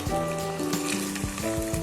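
Julienned carrots sizzle steadily as they stir-fry in a hot pan while a utensil stirs and scrapes, with a brief clatter partway through.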